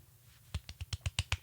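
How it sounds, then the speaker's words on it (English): Light, polite golf clapping, about eight soft claps in an even rhythm, quiet and close, with no talk. "Another golf clap there."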